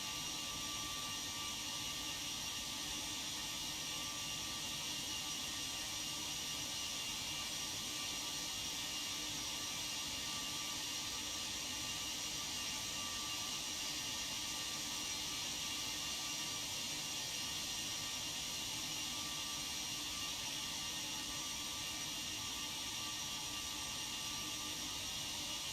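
A Boeing 747-200 jet engine spools up at ignition in the X-Plane 12 flight simulator, a steady broadband whine and roar holding evenly for the whole stretch with no talking.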